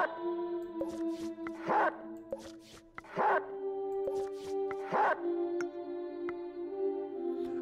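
A dog in the video game Reigns gives a few short barks, spaced a second or so apart, over a steady sustained musical drone.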